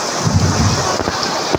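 Heavy rain pours down steadily in a loud, dense roar during a thunderstorm, with wind buffeting the microphone and deep rumbling underneath throughout the short stretch.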